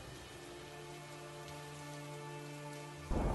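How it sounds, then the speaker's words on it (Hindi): Heavy rain falls in a steady, faint wash with an unbroken hiss and a low hum beneath, then a louder burst near the end. "बारिश पहले के मुकाबले बहुत तेज हो चुकी थी।"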